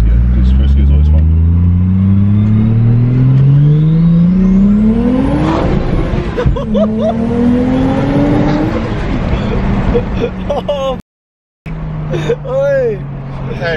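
A Toyota 1JZ-engined car pulls hard in first gear, its engine note climbing steadily in pitch over several seconds, then easing off and revving again, loud and close, with a brief cut in the sound near the end.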